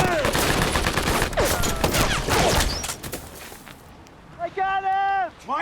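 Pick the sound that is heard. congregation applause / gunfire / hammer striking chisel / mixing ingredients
gunfire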